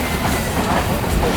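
A Karachi Express train rolls along the rails in Sindh, a steady, loud rumble of wheels and carriages close by with no pause across the short stretch.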